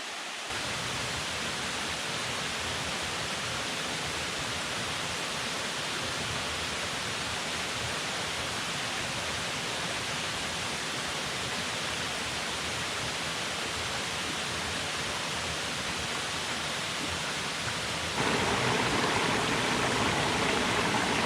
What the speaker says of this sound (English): A beautiful cascade here along the trail.